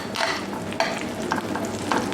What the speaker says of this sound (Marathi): आता आपण त्याच्यात शेंगदाणे उकडून घेतले ते आपण टाकून घेऊया